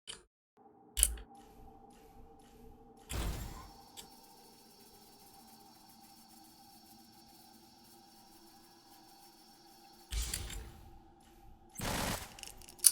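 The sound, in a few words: gunfire from guns being tested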